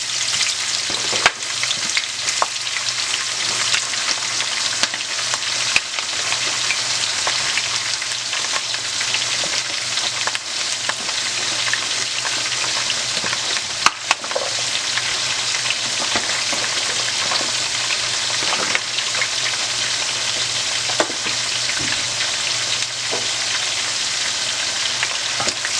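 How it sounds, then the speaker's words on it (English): Garlic and onion fry in hot oil as the base for a smoked fish gravy, giving a steady, loud, even sizzle with faint crackles and occasional light stirring clicks throughout, with no talking. "I have my oil going. I'm going to put my garlic"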